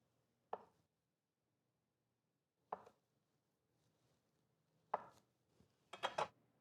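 A knife cuts drained tofu into half-inch squares on a board, giving a few sparse, quiet taps spaced seconds apart and then a quick cluster near the end, all close with no talk.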